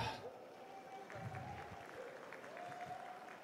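Sustained applause from a crowd at a foal auction in Radzionków, Poland, fills the whole stretch, a dense even wash of clapping with a faint steady tone and murmur underneath.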